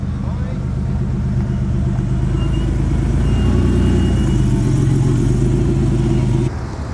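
A steady low Porsche engine rumble runs throughout, loud and close, as cars arrive at a Porsche event in Australia, with someone talking over it and a slight rise in revs midway.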